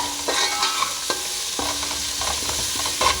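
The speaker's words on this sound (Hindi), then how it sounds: "हम इसको हल्का सा फ्राई करेंगे प्याज के साथ" Ginger garlic paste frying with onion for matar pulao, loud close sizzling with repeated scraping stirs and brief metallic taps of the spoon against the pot.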